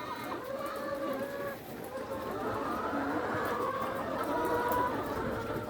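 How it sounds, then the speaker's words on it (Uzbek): Hens on an Uzbek poultry farm cluck in a steady, busy flock chorus close by, with no voices standing out and the clucking continuing throughout. "Tovuqlar sog'lom."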